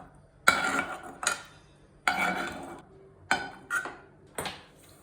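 Cooked prawns scraped and spooned from a metal kadai into a bowl, giving several separate clanks and scrapes of utensil on metal in uneven bursts, close and moderately loud with no talking.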